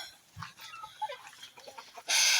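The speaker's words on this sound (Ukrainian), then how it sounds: "А сюди також забігають кури." Scattered hen clucks and soft fowl sounds at moderate distance, irregular and fairly quiet, ending in a sudden burst of loud hiss or noise.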